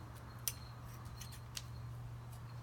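Scissors cut a sling shape out of folded material for a woven shepherd's sling, giving a few sharp, close snips with quiet gaps between them over a low steady hum.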